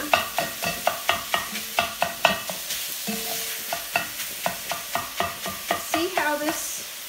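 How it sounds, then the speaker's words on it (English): Ground meat sizzling in a pan for Creole dirty rice while a utensil scrapes and breaks it up, producing steady, fairly regular clacks and scrapes over continuous frying hiss, close and moderately loud. "See how this handy dandy little tool breaks up this meat so great."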